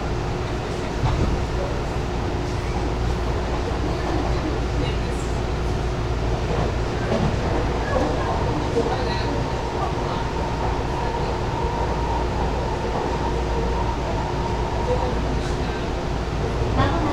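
Steady rumble inside a moving train in Japan, a continuous low roar with faint rattles and a thin tone throughout, with no clear voices on top.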